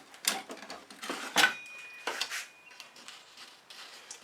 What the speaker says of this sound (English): I'm just going to scrape this off